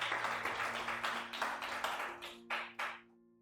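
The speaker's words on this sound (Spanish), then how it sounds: "Denle un aplauso al Señor" A church congregation gives applause to the Lord during a Sunday service, a steady roll of many hands that thins into a few separate rhythmic claps before dying away.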